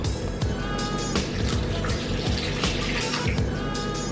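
Lukewarm milk pours into a yeast mixture in a home kitchen for a spicy chicken sandwich dough, a steady close liquid splashing and trickling throughout.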